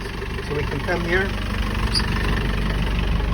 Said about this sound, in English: So after the engine is started